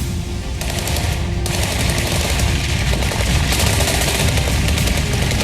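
Gunfire at night during a terrorist attack on an army camp in Baramulla: continuous rapid automatic bursts, loud and dense, with no pauses over a few seconds.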